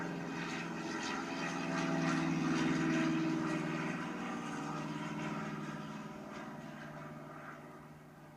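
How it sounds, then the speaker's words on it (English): A propeller airplane's piston engine drones steadily, building to a louder pass around the middle and then easing off slightly, with no voices over it. "here's the sound of the prop engine"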